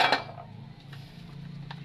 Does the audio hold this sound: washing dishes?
yes